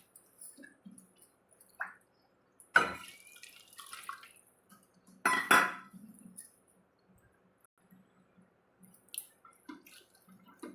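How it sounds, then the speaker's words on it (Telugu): Homemade butter cream is washed by hand in ice water in a kitchen, giving quiet sporadic splashes, drips and squelches with a few sharper sloshes, between silent pauses. "ఐస్ నీళ్ళు వేసుకొని మంచిగా మీగడంతా కడిగేసుకోవాలి"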